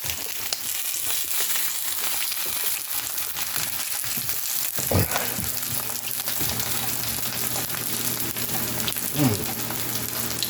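A coffee-rubbed T-bone steak sizzles steadily on a hot pan, a continuous close crackling hiss with a few brief louder pops and scrapes.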